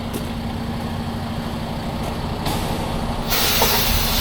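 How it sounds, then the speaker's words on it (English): Air brakes on a truck's trailer are set, releasing a sharp, loud hiss of escaping air that steps up twice and continues over a low idling engine nearby. "Set your trailer brakes."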